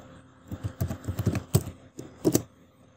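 Keys clacking on a computer keyboard as a Linux command is typed, several quick bursts of close, crisp taps with short pauses between them.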